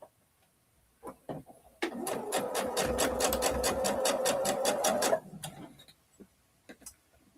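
A sewing machine stitches a seam, driven by a foot pedal: a steady, rapid mechanical chatter of needle strokes runs for about three seconds, near and clear, with quiet handling clicks before and after.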